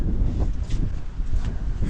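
Strong wind buffets the microphone outdoors beside a Kirovets tractor under repair, a dense, rough low-frequency rumble gusting unevenly and continuously for a couple of seconds, with no talking.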